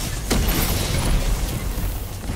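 One heavy booming impact as a Titan slams the ground in Destiny 2, with a sharp onset followed by a rumbling burst that sits over loud ongoing game noise.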